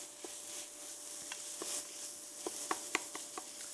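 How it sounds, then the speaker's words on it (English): Salmon chowder ingredients are stirred in a pot, with scattered soft scrapes and light clicks against a quiet, faint background sizzle. "Give that a stir."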